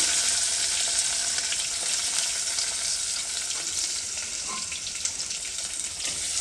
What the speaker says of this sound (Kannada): ಈರುಳ್ಳಿ ಹಾಕಿಬಿಟ್ಟು ಚೆನ್ನಾಗಿ ಒಂದು ಸ್ವಲ್ಪ ಫ್ರೈ ಮಾಡ್ಕೊಳ್ಳಿ